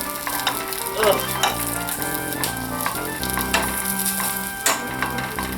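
Franklin Farms falafel balls fry in a hot non-stick pan with a steady, close sizzle and occasional crackling pops, and no one speaks.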